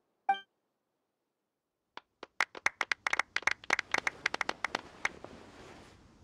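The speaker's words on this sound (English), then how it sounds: "Let's give our champion Kaveh one last big round of applause." A small group in the video game Genshin Impact breaks into applause after a brief chime, claps starting sparse then quickly building into a lively, close round before tapering off.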